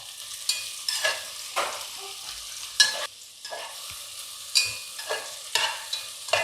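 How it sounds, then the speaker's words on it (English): Tomato and onion fry in a pan while being stirred, with a soft sizzle under about a dozen rhythmic scraping strokes of the spoon that swell and fade one after another, close by. "We'll let it fry till the tomato softens and the onion also gets golden brown in color. So I'll keep stirring it."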